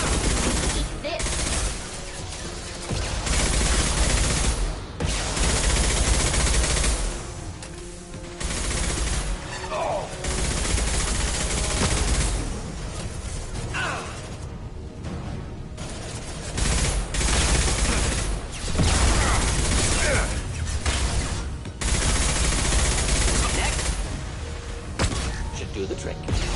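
Rapid bursts of gunfire fill the Mass Effect 2 combat scene, loud and dense volleys with machine-gun style fire and thuds, continuing almost without pause while characters speak over it.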